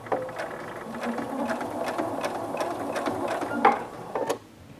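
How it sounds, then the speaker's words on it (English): A sewing machine stitches around the curve of a fabric bowl, its needle running in a steady mechanical whir with rhythmic clicks, then pausing briefly near the end as the fabric is turned. "lift up your presser foot, turn your fabric bowl, and begin stitching around the next curve."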